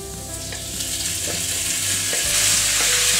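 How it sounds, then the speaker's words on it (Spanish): Meat and onion frying together in hot oil in a heavy-bottomed pan for Georgian chashushuli stew, a loud close sizzle that swells toward the end, with soft scraping stirs. "empezaremos a freír la carne junto con la cebolla"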